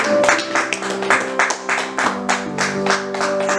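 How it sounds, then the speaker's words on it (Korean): During a Wednesday evening church service, the congregation claps together in a steady rhythmic beat, firm regular bursts with sustained musical tones underneath. "하나님 앞에 영광의 박수"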